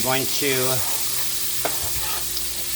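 Chicken breast browning in oil in a pan, a steady close sizzle, with a few brief tonal squeaks and a light clink partway through.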